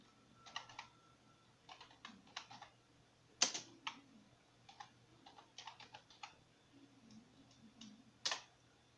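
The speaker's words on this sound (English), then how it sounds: "The next step, you're going to type in detail volume." Keys clatter on a computer keyboard in short irregular bursts of quick taps, with a couple of sharper louder strokes, close and fairly quiet in a still room.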